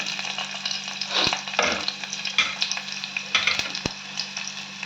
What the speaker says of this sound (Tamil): எண்ணெய் காய்ஞ்சிருச்சு வெங்காயம் போட்டுக்கோங்க